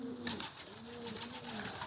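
Pigeons coo softly in a low repeating murmur, a faint close-by bird call running steadily for a couple of seconds with no talking.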